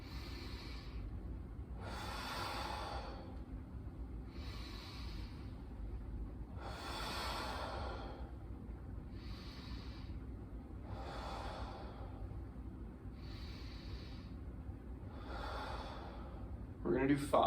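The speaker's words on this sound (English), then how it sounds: "So another big deep breath." Slow deep breaths taken during a manual lymphatic drainage exercise for the lower body: about eight long, airy inhales and exhales in a steady rhythm, close and clear over a constant low background hum.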